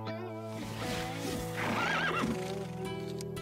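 Horses neigh and whinny loudly in a cartoon over a steady musical drone, with a shrill rising whinny standing out midway and faint hoof clatter.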